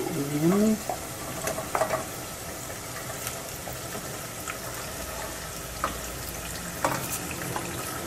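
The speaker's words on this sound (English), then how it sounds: "And then the next thing we do is put in the veggies." Squash, green peppers and tomato frying in a pan with potatoes and hot ghee give a steady low sizzle, with occasional stirring scrapes and clinks.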